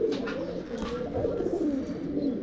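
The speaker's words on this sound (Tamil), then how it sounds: "புறா வந்து நிறைய இருக்கு." Pigeons cooing in a Tamil pigeon loft, a steady low murmuring coo running throughout with several birds audible, close and moderately loud, with no speech over it.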